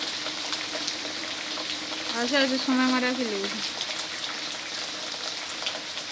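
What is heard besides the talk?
rain falling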